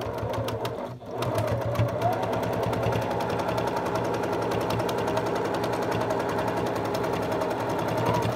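A sewing machine stitches just inside a seam to catch fabric with a ragged scrap edge, giving a rapid, steady, close-up needle chatter that falters briefly near the start and then runs continuously.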